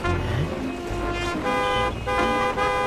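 Car horns honk in a cartoon traffic jam, loud and close, in several sustained toots that stop and restart in quick succession.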